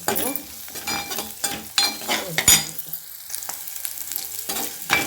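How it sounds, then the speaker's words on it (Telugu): Ginger garlic paste and turmeric sizzle and fry loudly in a hot pan for a Telugu ridge gourd milk curry, with steady crackling broken by repeated stirring scrapes and light clinks of a metal spoon. "ఇప్పుడు దీంట్లో తగినంత అల్లం వెల్లిగడ్డ, కొద్దిగా పసుపు వేసి"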